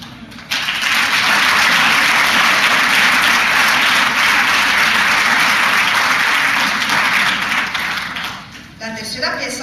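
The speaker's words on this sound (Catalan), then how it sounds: "al que li oferirem este fortíssim aplaudiment" Audience at a band concert in a cinema hall breaks into loud, sustained applause that lasts about nine seconds before fading, with a few voices emerging at the end.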